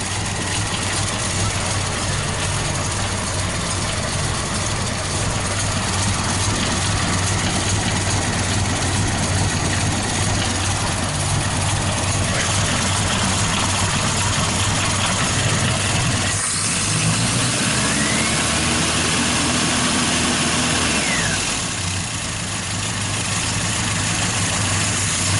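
A 1974 MGB engine idles steadily for the whole stretch, a low continuous rumble close by, with a brief dip and shift in tone partway through.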